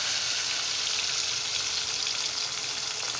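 Tomatoes fry in a pan with cumin, dried red chilli, garlic and coconut for a coconut chutney, a dense continuous sizzle that is close and steady, with no talking.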